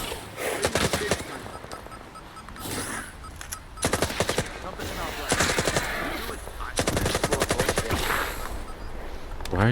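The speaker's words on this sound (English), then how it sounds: "Why are you shooting at me, dude?" Rapid bursts of automatic gunfire in the video game S.T.A.L.K.E.R. 2, loud clustered volleys separated by short lulls, with faint voices underneath.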